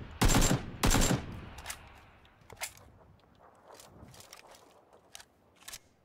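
SKS rifle fire in PlayerUnknown's Battlegrounds: two loud, close shots at the start, followed by scattered fainter shots and clicks, with players talking over voice chat.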